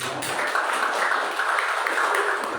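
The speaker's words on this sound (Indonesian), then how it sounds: "Nah, tepuk tangan dulu saudara." A church congregation claps together in a steady, sustained wash of applause that fills the hall from start to finish, with no voices rising above it.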